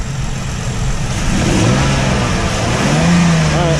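A 2017 Ford Explorer with a naturally aspirated 3.5 engine revs loudly and close, rising from a steady idle into a sustained, climbing rev and holding there, with no talking.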